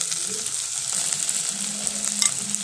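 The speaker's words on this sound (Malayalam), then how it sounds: "ഇഞ്ചി വെളുത്തുള്ളി ഉള്ളി എല്ലാം നല്ലതായിട്ട് മൂത്തിട്ടുണ്ട്" Crushed shallots, garlic, ginger and green chili sautéing in hot oil, a bright constant sizzle close up with soft stirring scrapes running through it.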